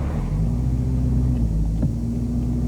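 An old, worn-out car engine rumbles steadily at idle, a low continuous drone filling the clip with a faint rising whine near the end, close by and without voices.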